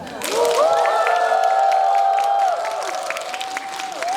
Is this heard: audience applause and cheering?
yes